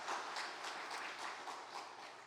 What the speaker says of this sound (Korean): 우리 오케스트라 팀에 박수 한번 주실래요?